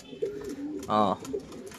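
Pigeons coo softly in a loft, one clear rolling coo standing out among faint bird murmurs, quiet and close, with someone talking nearby.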